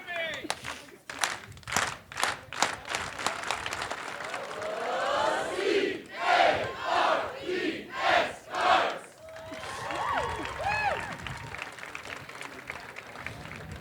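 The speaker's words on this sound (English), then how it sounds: "somebody ought to lead a cards cheer on that" At a company celebration, a crowd first claps in a quick rhythm, then shouts a chanted cheer in several loud surging bursts, and ends in scattered applause and chatter.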